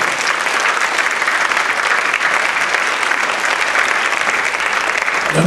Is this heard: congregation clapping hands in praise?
yes